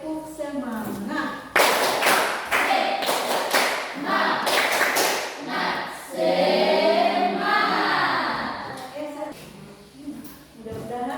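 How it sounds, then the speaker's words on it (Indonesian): A classroom of students does a rhythmic spirit clap, sharp patterned handclaps in quick clusters near and loud, mixed with chanting voices and a teacher speaking around the clapping. "ayo tepuk semangat."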